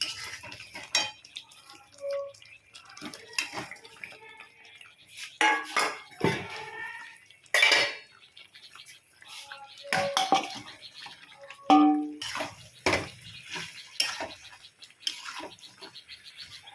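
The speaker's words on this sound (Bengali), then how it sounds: "এবার আমি আলুটা দিয়ে দেবো।" Potatoes go into a pan for Kashmiri dum aloo, giving scattered clinks of a spoon and utensils against cookware, with short scraping and stirring bursts spread across the clip, up close and fairly quiet.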